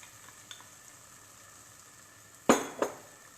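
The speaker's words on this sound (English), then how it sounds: "saute a little bit" Cooked al dente pasta sautéing in pasta sauce in a pan, a quiet low sizzle with a faint click early on, then two sharp clattering scrapes of a utensil against the pan near the end.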